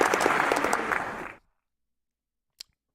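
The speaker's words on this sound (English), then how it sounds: "Let's put a warm round of applause." Studio audience applause welcoming a guest, a dense burst of clapping for just over a second that cuts off abruptly, followed by silence and a single click.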